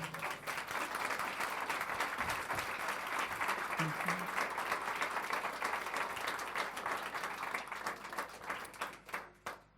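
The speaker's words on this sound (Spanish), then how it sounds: "Dele ese aplauso al Señor" A church congregation applauds for nearly ten seconds, a dense, steady wash of clapping that fades toward the end, with a few voices mixed in.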